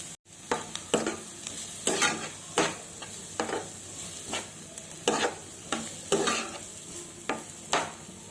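Chopped onions and green chillies frying in oil with turmeric for an egg curry, a steady sizzle broken by regular scraping stirs roughly every half second to second, close and moderately loud, with no voices.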